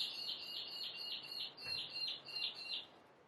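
A bird chirps in a fast repeated series of high, bright notes, fairly loud and clear, with faint background noise and no voices.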